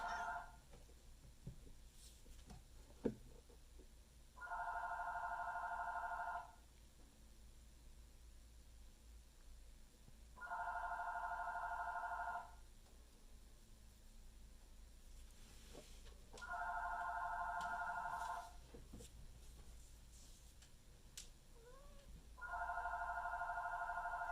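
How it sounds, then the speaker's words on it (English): A telephone ringing indoors, heard as four evenly spaced electronic ring bursts a few seconds apart, moderately loud over a quiet room with a few small handling knocks. "Phone started ringing."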